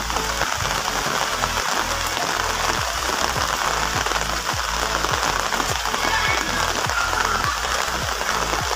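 Steady rain patters on surfaces outdoors near a bridge on the way to a swimming pool in Barangay Bololo, Guinobatan, with broadband hiss and scattered low thumps throughout.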